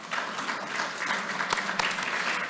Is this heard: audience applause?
yes